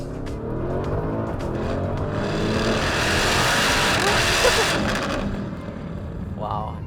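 Modified Porsche Cayenne Turbo with big carbon ceramic brakes accelerating hard, a broad engine roar building steadily and staying loud for several seconds before easing, with a voice speaking over it.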